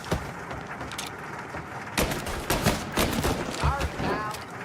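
Gunfire crackles through a shootout in Mafia: Definitive Edition, dense overlapping shots and bursts, loud and close, with shouting voices mixed in the chaos.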